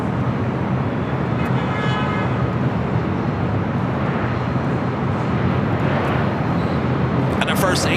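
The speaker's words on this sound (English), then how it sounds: "A380 takeoff on the south side" An Asiana Airlines Airbus A380 roars down the runway on takeoff at LAX, a loud continuous broadband jet rumble that holds steady throughout, with faint traffic noise beneath.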